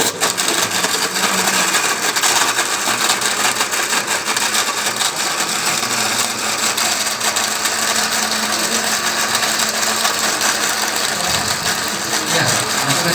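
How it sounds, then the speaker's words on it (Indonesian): A blender whirs through fish waste and water in a continuous, loud motor drone that holds steady for the whole stretch and dips briefly near the end. "Tambahkan air. Kita blender."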